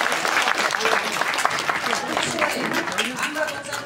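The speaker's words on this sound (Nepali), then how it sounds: "ठिकको ताली चाहियो" An audience claps steadily at a talk on child-rearing, a dense, sustained burst of applause lasting about four seconds, with voices mixed into the crowd noise.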